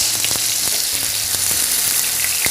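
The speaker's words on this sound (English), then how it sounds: "And you're going to let it sear on both sides." Fish laid skin-side down in a hot pan to sear, giving a loud, dense, continuous sizzle with small pops and crackles throughout.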